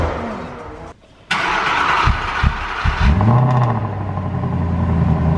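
A supercar engine cranks and fires after a brief pause, then revs loudly and deeply in a close, rising and falling roar.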